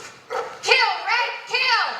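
A dog barks in three loud, close, bright yips with short pauses between them.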